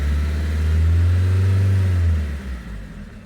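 Opel Corsa diesel engine, 2024 model, revving up from idle as it accelerates, a loud steady low rumble swelling then easing off toward the end.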